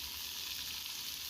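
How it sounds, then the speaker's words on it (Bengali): Carrots, onions and beans frying in a pan give a steady, quiet sizzle that holds evenly throughout, with no talk over it. "গাজর পেঁয়াজের সাথে গাজর বিনস নেড়েচেড়ে একটু ভেজে নিলাম"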